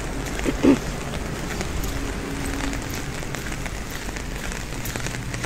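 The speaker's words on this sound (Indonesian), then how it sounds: "Lihat guys, hujan lumayan deras juga hari ini." Fairly heavy rain falls steadily around a home on a midday, a continuous even patter with one brief louder knock near the start.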